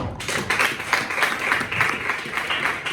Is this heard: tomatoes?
no